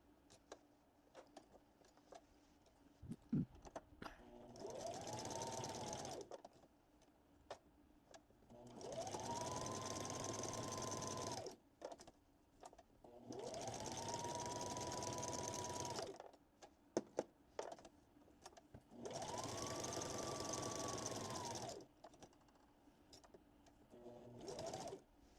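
A sewing machine stitches cotton towel wipes in four quiet, steady whirring runs of several seconds each, with soft handling clicks and rustles in the gaps between them.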